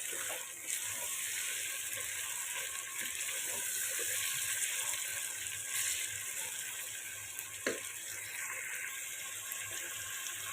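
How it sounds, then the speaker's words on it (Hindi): Chicken pieces frying in a pan for chicken biryani, a steady close hiss and sizzle running throughout with a few faint clinks and brief bursts of crackle. "अब चिकन को 5 मिनट फ्राई करेंगे।"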